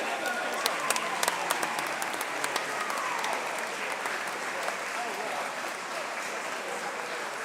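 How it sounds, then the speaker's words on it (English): Spectators at a regional swimming championship applaud and cheer continuously through a race in an echoing indoor pool hall, with sharp claps and whistles standing out above the steady crowd noise and a voice talking over it. "So do keep cheering them on all the way through the race."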